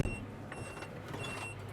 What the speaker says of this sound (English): all that beeping noise is because of the tailgate's open